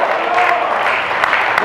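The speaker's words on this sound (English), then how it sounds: "Let's give the Lord a hand clap of praise" A church congregation claps hands in praise during a sermon, a loud, close, continuous wash of many hands with a steady crackling texture.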